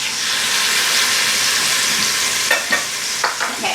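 Pot roast browning in an Instant Pot: a steady, loud sizzle and hiss of searing meat runs throughout, with a few sharp clicks and scrapes near the end as the roast is shifted.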